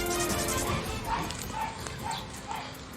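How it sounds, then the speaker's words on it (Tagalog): Dogs rescued from a slaughterhouse in Bulacan bark and yip in short bursts over a noisy, busy outdoor scene, with background voices and commotion throughout. "May aso."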